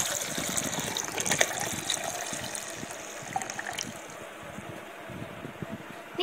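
Strained carrot juice is poured into a jar, a close, faint gushing trickle that is busiest at the start and tapers off toward the end.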